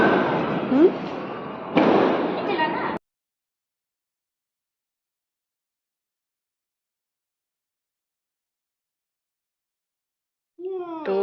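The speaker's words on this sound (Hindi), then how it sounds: "थोड़े से फायर, ये क्रैकर्स वगैरह फायर करने के लिए" Diwali firecrackers going off outdoors: a few sharp, loud bursts and crackling in the first three seconds, then silence, with a voice briefly at the end.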